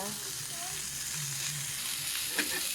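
Ginger drops into a hot pan for a coconut-milk scallop dish and sizzles loudly, a steady, close frying hiss with a few brief crackles near the end.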